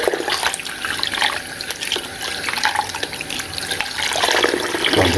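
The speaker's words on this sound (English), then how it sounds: "Then use my running water just to rinse them out." Running tap water pouring into a sink while 90s mermaid dolls are rinsed under it, a loud continuous close splashing rush that swells slightly toward the end, with no talk.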